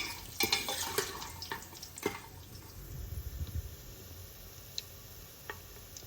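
Small pieces of dried lentil wadi fry in hot ghee for an Amritsari aloo wadi curry, with sharp crackling pops and ticks bunched at the start, then thinning to sporadic faint spits over a quiet background.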